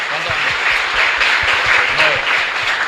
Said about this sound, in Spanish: Un fuerte aplauso también para Rosita